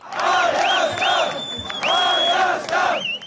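A large protest crowd in Yerevan, Armenia cheers and shouts together in loud, rising waves of collective chanting, with whistles cutting through and brief dips between bursts.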